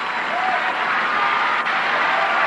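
A tennis crowd applauds at the 1991 Virginia Slims Championships during the Seles versus Navratilova match, giving a steady, even wash of clapping that holds throughout with no voices standing out.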